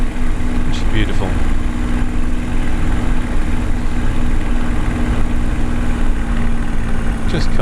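A Supermarine Spitfire L.F. Mk IXc warbird in Microsoft Flight Simulator drones with a loud, continuous piston-engine roar in flight, steady and dense throughout with a constant tonal hum.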